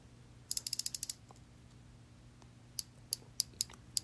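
A bicycle freewheel hub ratchets close up, with a quick burst of about eight rapid clicks followed by a few separate, evenly spaced clicks in a quiet room.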